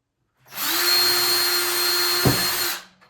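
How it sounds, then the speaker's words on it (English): A power drill bores a quick pilot hole into an interior wall during a half-bath renovation, a steady close whine running about two seconds that ends with a brief thump as the bit breaks through. "Do a quick pilot hole just to make sure there is not a stud back behind there."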